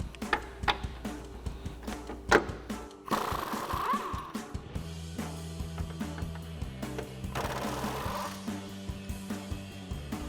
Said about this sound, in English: We have two 18mm bolts, so we'll grab an 18mm socket to pull out.